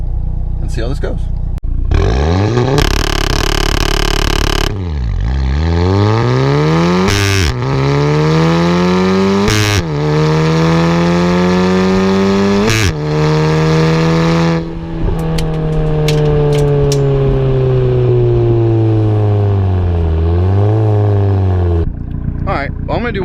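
A car engine with launch control set around 4,500 rpm revs loudly and repeatedly, its pitch climbing and dropping across several long pulls, holding near a steady limiter drone, very close and dominant throughout.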